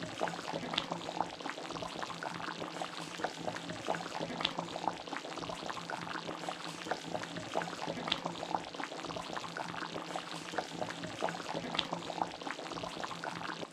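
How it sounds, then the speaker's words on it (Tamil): A pot of Madras-style fish curry at a steady boil, giving a continuous low bubbling and crackling hiss, fairly faint and unbroken, with no talking. "குழம்பு கொதிச்சிடுச்சு, மீன் வெந்திருக்கும்"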